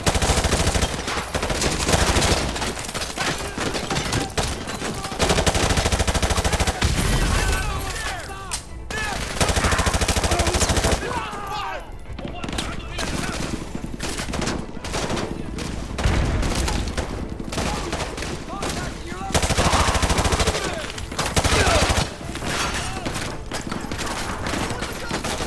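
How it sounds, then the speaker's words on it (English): Video game gunfire in a military shooter firefight near a school: dense rapid bursts of automatic rifle and machine-gun fire, loud and continuous with brief lulls, with voices talking faintly underneath. "We're taking heavy fire from the school."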